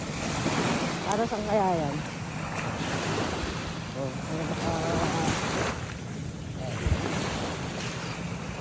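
Ocean waves washing on the seashore, a continuous rushing surf roar with wind buffeting the microphone, while a person talks intermittently over it.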